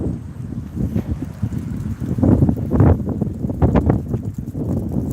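Low, rumbling wind buffets a microphone outdoors, a steady blustery roar with stronger gusts that swell and fade, no speech over it.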